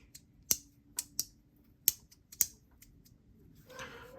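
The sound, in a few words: magnets clicking inside a haptic fidget coin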